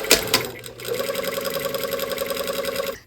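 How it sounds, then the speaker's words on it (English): A sewing machine stitches fabric piping under the presser foot, starting with a couple of sharp clunks and then settling into a steady, close, rapid mechanical whir with a low motor hum throughout. "So now we just sew"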